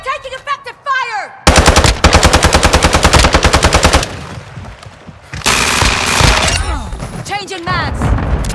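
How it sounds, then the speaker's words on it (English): Sustained bursts of rapid automatic machine gun fire in Call of Duty: Modern Warfare II, loud and close, with brief gaps between volleys and shouted voices cutting in before and between the bursts. "Taking effective fire!"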